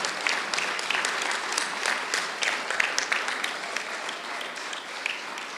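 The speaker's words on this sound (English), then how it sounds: "So I think she deserves a great round of applause." Audience applause at the inauguration of the Linda & Sheldon Kagan Library, a steady round of many hands clapping that stays even and fairly close for the whole stretch.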